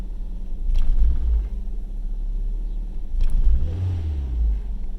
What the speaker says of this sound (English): if I give it gas, it almost stalls and then goes up